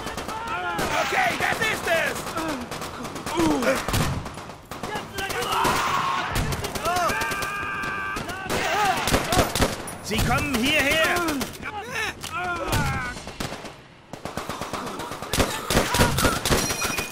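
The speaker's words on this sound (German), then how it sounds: "Freundliches Maschinengewehr!" Friendly machine gun fire in Call of Duty: World at War, rapid gunshot bursts crackling through a dense battle mix, with voices shouting over the sustained shooting.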